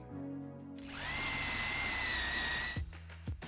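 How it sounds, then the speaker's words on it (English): A power drill bores a hole in a pantry door, the motor whining steadily for about two seconds before stopping, followed by a few light knocks. "we are ready to drill the holes"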